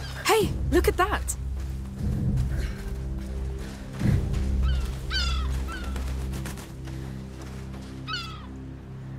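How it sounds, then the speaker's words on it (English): Seagull calls in a seaside video game setting, several short wavering cries rising over a steady low ambient hum, with a voice speaking underneath. "We call them laughing gulls here."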